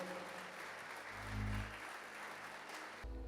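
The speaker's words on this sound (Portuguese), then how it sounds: "Pode dar mais uma forte salva de palmas ao Senhor." A church congregation applauding during a family celebration service, a sustained, fairly faint spread of clapping with a low hum swelling briefly midway and cutting off near the end.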